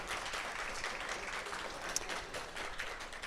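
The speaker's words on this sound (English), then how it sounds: "can we get one more round of applause for our amazing library staff?" Audience applause for library staff at an affordable learning symposium, dense steady clapping from a sizable crowd, moderately distant and fairly quiet.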